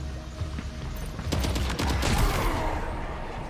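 Assault rifle gunfire in the video game Death Stranding 2, a dense fusillade of rapid shots and loud cracks building up after the first second, with a booming blast mixed in and continuing to the end.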